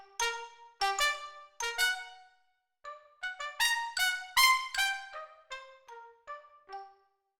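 Trumpets doubled by xylophone, recorded on the drier soundstage of Air Studio 1, play a bright, staccato melodic line of short struck-and-blown notes with brief gaps, moderately quiet and free of speech.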